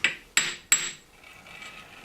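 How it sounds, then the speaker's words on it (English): A brass hammer giving three light shocking taps on metal, sharp close clicks about a third of a second apart, followed by faint rubbing and handling noise. "Now I'm using a brass hammer, so I'm not really trying to pound or put a dent in there."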